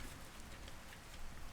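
Steady heavy rain falling in Skyrim with an ENB graphics mod, a dense continuous hiss that stays even and fairly close throughout with no other sounds.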